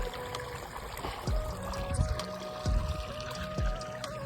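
Irrigation water runs steadily into a field, a continuous trickling and pouring flow that stays close and moderately loud, with a few low thuds and splashes breaking in at intervals.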